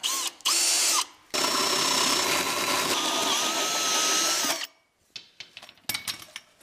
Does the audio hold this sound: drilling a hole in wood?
yes